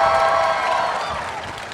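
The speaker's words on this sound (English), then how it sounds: "Can we get one more cheer for our fabulous TGX Cosplay judges?" An audience at the TGX 2025 cosplay competition cheers and applauds for the judges, a dense wash of clapping and shouts that slowly fades.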